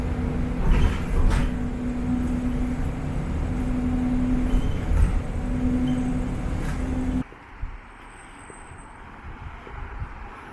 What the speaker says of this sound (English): There goes my bus